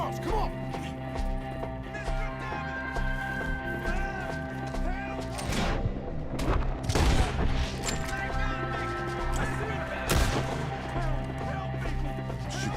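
Gunfire erupts during an ambush shootout in Red Dead Redemption 2, with loud bursts of shots and cracks, the heaviest around the middle and again near the end, mixed with hooves and game music.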